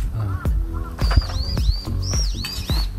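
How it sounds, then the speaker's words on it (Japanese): Small birds chirping and tweeting outdoors in spring during a relaxed countryside barbecue, a string of sharp repeated calls over a low background of voices and outdoor ambience. "鳥のさえずり聞きながらね、"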